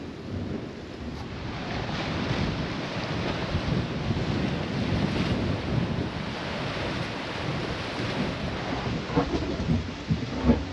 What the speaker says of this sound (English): you can just hear the power of nature as it comes roaring through the blowholes